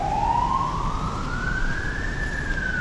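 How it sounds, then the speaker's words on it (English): An ambulance siren on a city street in Macau near a hospital emergency room wails in one long rising sweep and then holds, loud and steady over traffic noise. "So the ambulance is because the emergency room is right over there for Kyungwoo."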